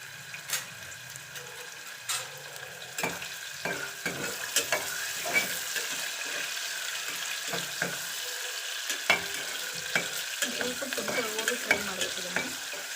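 Paneer is added to a hot pan and stirred, bringing a constant sizzle broken by repeated scraping and clacking strokes of a spatula against the pan, close and clear without speech.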